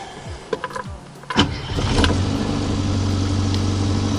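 A few clicks, then a classic Austin Mini's small engine cranks briefly on a little choke and fires up into a steady, rumbling idle nearby.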